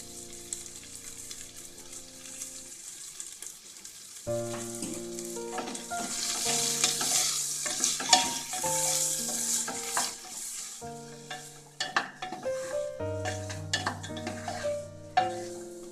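Mixed vegetables for a vegetable pulao sautéing in a pan, with steady sizzling and repeated scraping stirs growing busier after a quiet opening, alongside background music and no talk.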